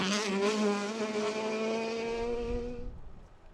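Ford Escort Mark II rally car competing in the modified class on a Donegal International Rally stage, its engine roaring loud and close with a steady high-revving note, then fading away as it passes.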